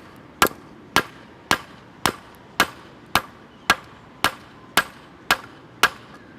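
Steady hammer blows on hot steel as a knife blade is forged over a barbecue pit, about a dozen sharp metallic strikes at an even rhythm, close and loud, with no talking.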